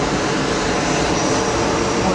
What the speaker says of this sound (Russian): Сейчас я вам самолет покажу.